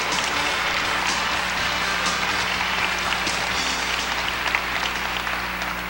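At the 1998 Miss Arkansas pageant, an audience applauds the contestants: a broad, continuous roar of clapping that stays fairly loud and steady throughout, with some hum beneath it.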